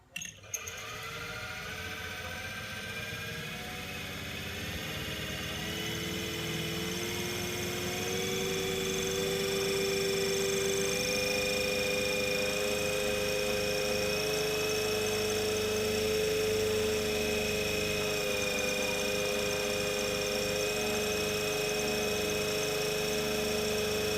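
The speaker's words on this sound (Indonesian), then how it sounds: "Selanjutnya kita akan memutar generator dengan kecepatan 1500 rpm," A synchronous generator in a lab spinning up to 1500 rpm, with a sudden start followed by a steady electrical hum and whine that climbs in pitch and then holds, close and continuous with no talk.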